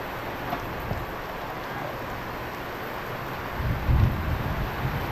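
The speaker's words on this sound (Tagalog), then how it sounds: "Grabe ang ulan." A steady wash of rain noise with low rumbling and gusty swells, growing briefly louder and heavier toward the end.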